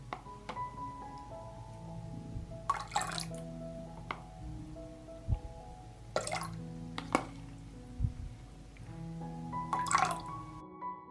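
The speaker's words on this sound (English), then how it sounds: "I add a tablespoon of lemon juice to the pot." Tablespoons of lemon juice are tipped into a pot for canning jars, giving a few soft, close drips and splashes spaced several seconds apart over a faint background hum.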